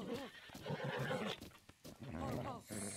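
A horse in The Legend of Zelda: Breath of the Wild (Master Mode) gives a loud, clear neigh with hoof clip-clop, while someone talks over it throughout.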